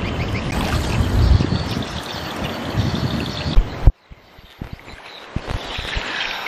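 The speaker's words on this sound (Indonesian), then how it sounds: "Itu Pak Sarul lagi membersihkan ikan." Freshly netted river fish being cleaned in the water on the bank of the Kampar River: continuous splashing and trickling, loud and close, then an abrupt drop to quieter dribbles and light taps.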